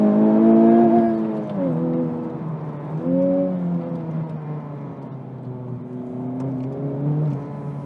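A 2020 Honda Civic Type-R FK8 engine drones on a mountain road, its pitch dipping and climbing as the hot hatch works through bends, moderately loud and steady from inside.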